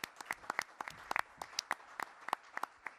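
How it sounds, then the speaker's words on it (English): An audience at a governor's COVID-19 briefing in the Bronx claps in a thin, scattered way: separate hand claps ring out at an uneven pace, fairly quiet and somewhat distant. "Let's give them all a strong round of applause as well."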